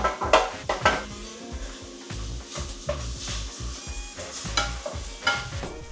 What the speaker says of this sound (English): once you've sauteed the onions for around 30 seconds or a minute, you want to add in the rest of your veggies